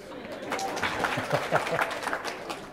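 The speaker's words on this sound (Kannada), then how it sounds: "ಚಪ್ಪಾಳೆ ಹಾಕಿ" A crowd at a Ramayana discourse breaks into applause, a dense wash of clapping at moderate distance with some murmured chatter mixed in.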